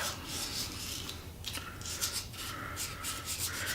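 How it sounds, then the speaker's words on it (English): Sandpaper rubs lightly over a pen tube to rough up its surface, a steady soft rasping with repeated strokes close up, no talk. "First, I'm going to give the tube a light sand."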